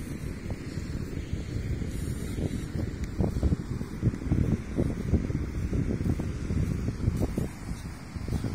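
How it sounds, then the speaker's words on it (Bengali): Wind gusts across the shore at Inani Beach in Cox's Bazar, buffeting the microphone with low rumbling, while the sea washes faintly in the background. The roar is steady and continuous, with no voices. "সামনে সমুদ্র।"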